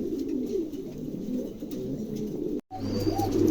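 King pigeons coo in low, soft rolling calls, close by and continuous, with a steady hum underneath and one brief dropout of sound near the end.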